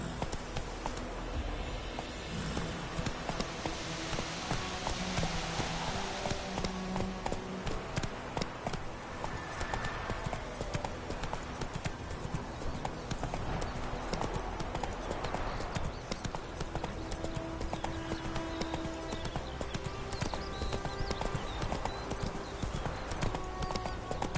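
Roach the horse from The Witcher video game walking with steady, continuous clip-clop hoofbeats throughout, over an ambient game background.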